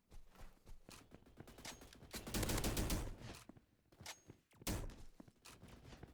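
Rapid pistol fire from an M9 in a futuristic shooter game, a dense run of sharp shots with a heavier burst midway, then a short gap and more shots.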